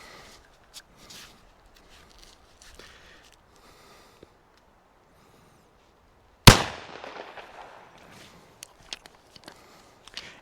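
A single sharp, loud shot from a small Bond Arms Blackjack pistol cracks out after a quiet stretch and rings off fast, followed by faint scattered handling clicks.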